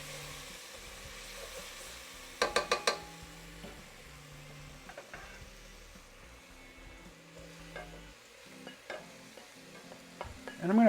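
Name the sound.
onions and beef stirred in olive oil in pan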